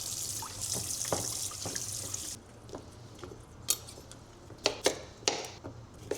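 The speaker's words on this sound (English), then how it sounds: "I'm going to give these a quick wash as well" Running tap water streams steadily over bones for a homemade broth, a broad hiss at first that quiets after a couple of seconds, followed by scattered clinks and knocks of the bones being handled in the sink.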